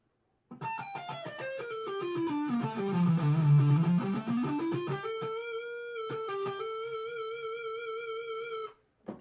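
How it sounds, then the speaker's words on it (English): An electric guitar plays single notes in a scale with a Boss PS-6 Harmonist pedal switched off, stepping down and back up, then holds a sustained note. The tone is clean and nothing else is heard. "I'm going to play a scale with the pedal turned off"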